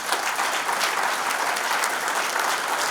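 A hall of fame audience applauds the 2022 St. Joseph Area Sports inductees, including Herzog Motorsports, with steady, dense clapping that fills the room loudly and evenly throughout, with no voices over it.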